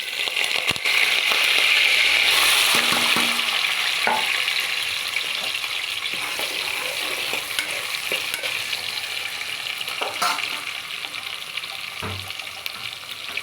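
Onions, green chillies and curry leaves fry in hot oil for a bottle gourd curry, starting with a loud, bright burst of sizzling that settles into a steady crackle punctuated by occasional stirring clicks.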